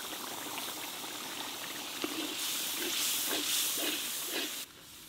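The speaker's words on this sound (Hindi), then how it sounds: "अभी अच्छा सा फ्राई हो रहा" Masala with red chili and turmeric powder sizzling in a black kadai, a steady close hiss that swells louder midway with soft popping crackles, then drops back near the end.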